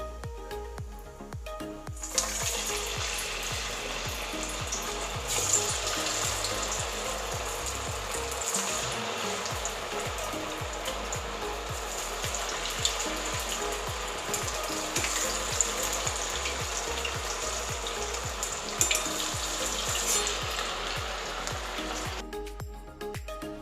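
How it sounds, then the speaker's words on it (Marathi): Sabudana vadas (tapioca pearl fritters) deep-frying in hot oil give off a loud, steady, dense sizzle and bubbling that lasts throughout, close up, with no talking. "आता आपण यामध्ये वडे सोडू."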